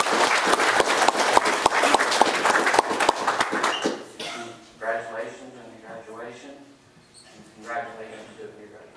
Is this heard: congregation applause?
yes